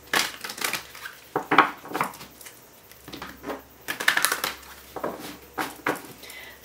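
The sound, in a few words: tarot cards being shuffled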